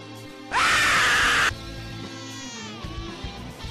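A player lets out a loud, sustained scream of about one second after a jumpscare while playing the horror game Identity V, followed by quieter game sounds and murmuring.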